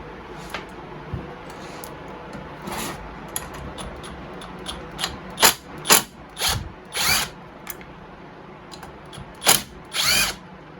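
A power tool removes the muffler from a small engine, heard as short, close bursts of whirring drill-like spinning mixed with clicks and the rattle of parts.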